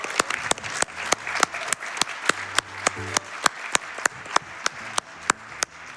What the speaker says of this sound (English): if I could get a round of applause for Attire, that would be really great